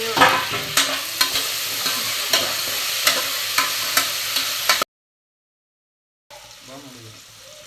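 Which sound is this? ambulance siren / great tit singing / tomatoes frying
tomatoes frying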